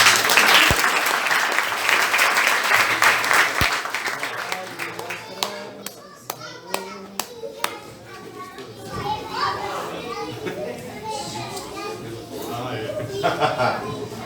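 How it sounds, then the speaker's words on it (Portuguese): A church congregation applauds loudly and close for several seconds, the clapping thinning out into scattered claps, cheers and chatter among the crowd. "Vamos aplaudir o Senhor Jesus."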